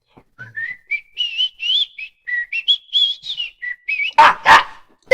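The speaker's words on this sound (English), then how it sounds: "And you hear the sound of whistling." Someone whistles a clear, wandering melody of short rising and falling notes, loud and close, then two sharp barks burst in at the end.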